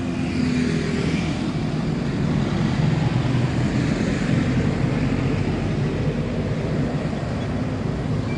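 Cars, motorcycles and scooters pass through a neighborhood street, producing a continuous, fairly loud rumble of engine and road noise with no distinct pauses.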